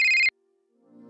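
An incoming-call ringtone on a phone chimes with a short bright electronic burst that cuts off abruptly, followed by a brief silence and then a faint rising tone.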